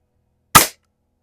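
A vintage El Gamo model 68 .22 caliber break barrel air rifle fires a single sharp, close shot in a garage, a brief crack surrounded by silence.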